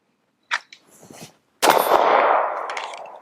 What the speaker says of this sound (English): I think I got one round left here, but let's go ahead and shoot it